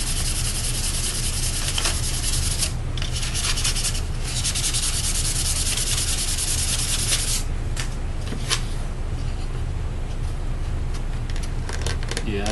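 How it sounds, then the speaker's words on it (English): Steady, close rasping of sandpaper rubbing back and forth on a small model rocket part, loud and continuous with brief pauses in the stroke. "I'm gonna probably sand this down just a little bit."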